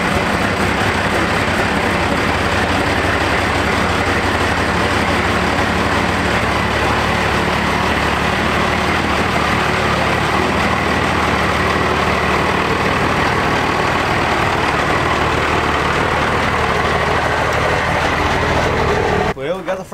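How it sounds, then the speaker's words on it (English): Heavy truck engine running steadily and loudly during a shop build as trucks are pulled out, a continuous low rumble throughout with some talk-like mixture, cutting off abruptly at the end. "Let's get to pulling these trucks out."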